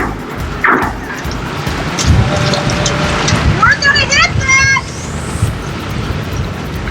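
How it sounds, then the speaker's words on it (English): Strong wind roars steadily against the microphone while driving a boat on the water, a dense rushing noise with brief whistling, creaking tones rising partway through. "I got a pretty strong wind I gotta go into."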